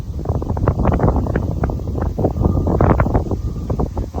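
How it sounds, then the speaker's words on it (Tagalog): Strong wind buffeting the microphone on an open farm field in Japan, a loud continuous rumble with gusty bursts and rustling throughout. "kahit sobrang hangin"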